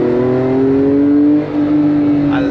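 A Porsche 911 with a custom exhaust revs steadily, its engine note climbing in pitch as the throttle opens, then dipping briefly before picking up again, loud and close with no voices.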